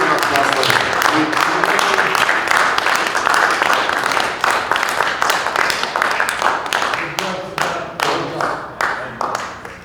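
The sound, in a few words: applause for a conference volunteer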